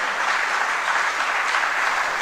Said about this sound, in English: Shall we welcome her with a big round of applause?